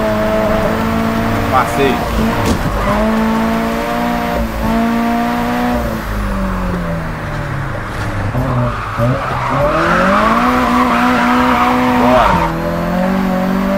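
Drifting car in the Japanese Drift Master racing game, its engine droning in sliding pitch sweeps as tires squeal through long skids, loud and continuous, with someone talking over it.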